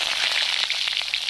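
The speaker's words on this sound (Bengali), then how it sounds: "বেগুনগুলো ভেজে নিচ্ছি।" Eggplant slices fry in oil with a close hiss and a few quick crackling pops over a steady sizzle, with no voices.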